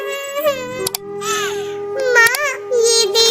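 A cartoon bird character cries in a shrill, high-pitched voice, wailing and sobbing in rising and falling bursts with brief breaks, loud and close throughout.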